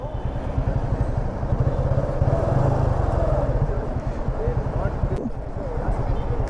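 Engine of a Kawasaki ZX-6R sport motorcycle on a Bengaluru road, a steady close rumble running through the whole stretch alongside general traffic noise, with voices talking over it.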